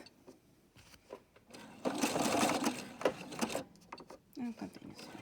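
A sewing machine backstitches in reverse on a shopping bag seam, a short burst of close mechanical whirring in the middle between quieter pauses, with faint handling noise and a voice briefly nearby.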